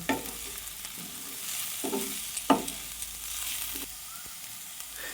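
Masoor dal frying in a pan while being stirred, giving a steady soft sizzle with a few louder scraping stirs spaced irregularly; close and alone with no talk.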